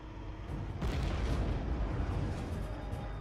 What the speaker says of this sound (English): the Bradley packs an even bigger punch thanks to its TOW anti-tank missile